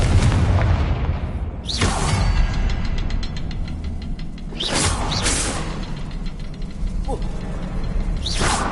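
Confringo fire spell explosions in the video game Hogwarts Legacy, three sharp booming blasts with whooshing bursts spaced a few seconds apart over a continuous rumbling game background.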